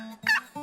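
A wild turkey gives a short call, a brief strident note between softer lower sounds, close and clear against a quiet background.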